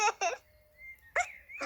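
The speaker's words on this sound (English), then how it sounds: "All that earth has given you hiccups" A cartoon worm hiccups in a children's animated show, short squeaky vocal hics with a thin whistling tone between them, close and fairly quiet.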